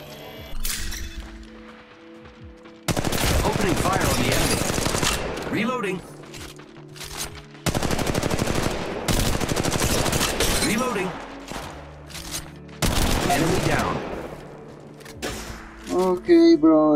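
Gunfire in the video game Apex Legends comes as several long, loud bursts of rapid automatic fire, each lasting a few seconds and separated by short quieter pauses filled with voice lines and in-game sounds.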